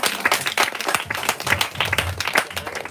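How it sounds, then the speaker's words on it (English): Audience clapping at a live reading at Brookline Booksmith, a dense burst of applause from a room of listeners, lively and close for a few seconds. "It's time to clap now."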